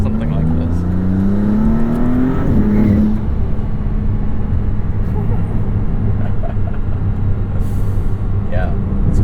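A 2022 Maserati MC20 sports car driving on the road, its engine rising in pitch through a rev then settling into a steady loud drone with road noise, heard close from inside or near the car.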